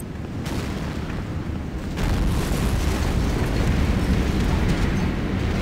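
A nuclear strike in a real-time strategy video game erupts as a massive rumbling blast that swells louder after a couple of seconds into a sustained, roaring boom with no talk.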